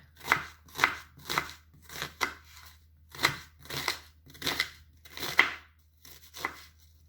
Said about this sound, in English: We're going to start by chopping an onion